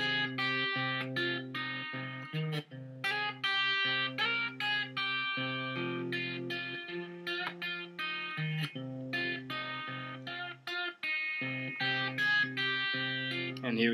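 An electric guitar with a capo plays the intro, a busy, continuous riff of ringing open strings and quick repeated notes with slight distortion, loud and close, without a break.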